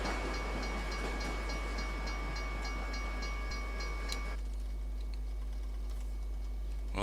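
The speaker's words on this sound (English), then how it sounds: "Big freight train, it could be quite big." In the Euro Truck Simulator 2 driving game, a big freight train passes a level crossing. A steady, loud rumble runs under a rhythmic metallic clicking, then the sound thins out abruptly partway through.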